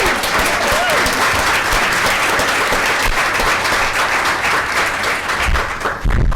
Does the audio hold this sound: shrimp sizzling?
no